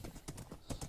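A horse in Minecraft clops along in quick, even hoofbeats, a short close run of hollow knocks.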